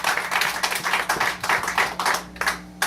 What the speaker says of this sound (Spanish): Un aplauso al Dios de gloria. Applaudis mon Dieu dans la vie.